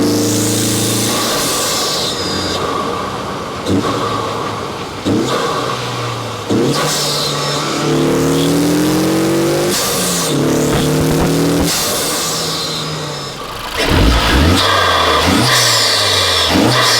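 Turbocharged Honda Civic Type-R FL5 fitted with an Armaspeed air intake, loud repeated revs that climb and fall through several gear changes while driving, with intake whoosh and rising, falling engine tones.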